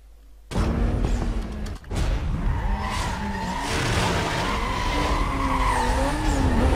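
A Mazda's engine roars steadily and loudly in a Need for Speed Most Wanted (2005) race, with tire skids and a sustained engine tone that rises and falls from the start.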